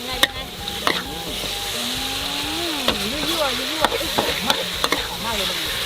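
Crispy pork basil stir-fry sizzles steadily in a pan with scattered scraping clicks of a utensil stirring, over a constant hiss; a voice murmurs faintly underneath.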